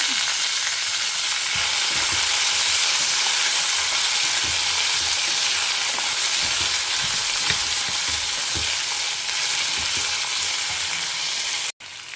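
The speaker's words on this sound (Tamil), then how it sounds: "கடுகு, உளுத்தம்பருப்பை எண்ணெய் குத்தி வறுத்துண்டாச்சு. இப்போ நம்ம தொண்டைக்காயை இதோட சேர்த்துட்டுலாம்" Ivy gourd tipped into a pan of mustard seeds and urad dal already frying in oil, giving a steady, loud, broadband sizzle that runs unbroken with faint stirring scrapes, then cuts out briefly near the end.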